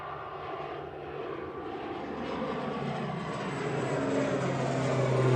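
An ATR 72 turboprop airliner passes at Manchester Airport. Its propeller drone is faint and distant at first and grows steadily louder. No voices are heard.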